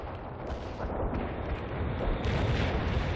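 Dense, continuous rumble of air-strike explosions from World in Conflict tank buster runs, with overlapping booms and crackle sustained loudly throughout and swelling near the end.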